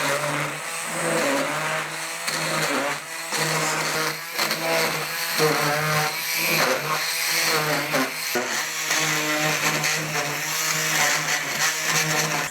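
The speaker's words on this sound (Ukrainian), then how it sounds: "І з цієї маси робимо мілку крихточку за допомогою блендера" A loud motorized blender whirs continuously for several seconds, crushing a dessert mixture into fine crumbs, its steady grinding drone rising and dipping slightly.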